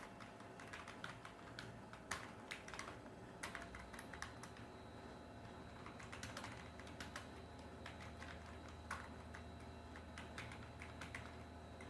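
Keys clatter steadily on a computer keyboard as code is typed, a quiet, close run of irregular clicks with occasional sharper key strikes and no talking.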